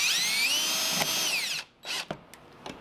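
A power drill drives a screw into the seam of a soup can for a homemade rocket stove, whining at high speed for about a second and a half, then stopping, followed by a few short bursts and clicks.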